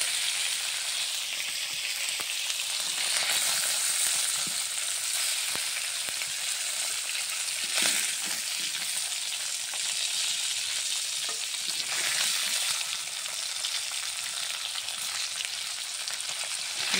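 Chang snakehead fish fry in hot oil in a home kitchen, a steady close sizzle lasting the whole time, with occasional stirring and scraping in the pan and no talking.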